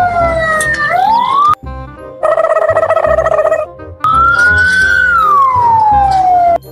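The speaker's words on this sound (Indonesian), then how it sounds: "Lihat teman-teman, ada truk pemadam kebakaran." A fire truck siren sounds loud and close, sweeping up and down in a long wail, then switching to a rapid yelp. Short breaks separate the sections.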